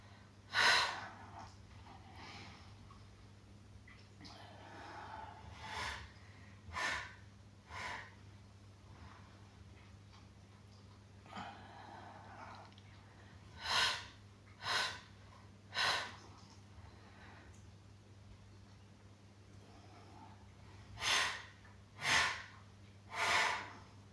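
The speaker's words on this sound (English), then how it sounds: "Triple exhale." A triple exhale during a Pilates magic circle exercise comes as short sharp breath bursts in a quiet room, mostly single puffs with a cluster of three near the end, close and without talk.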